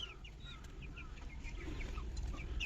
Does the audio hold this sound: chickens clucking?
yes